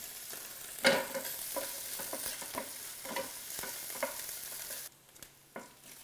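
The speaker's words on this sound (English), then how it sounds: "We're going to add a little bit of garlic and shallot to that, and onion. And we're going to saute this for just a few minutes until it's tender." Garlic, shallot and onion sauté in olive oil with a bright, hissing sizzle and repeated spoon clinks and scrapes against the pan, the frying dropping away near the end; no talking.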